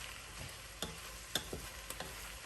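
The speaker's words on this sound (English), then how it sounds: "We just finished browning our ground beef" Ground beef browning in a pan for chili, a soft continuous sizzle broken by a few sharp clicks and scrapes from stirring, no talking.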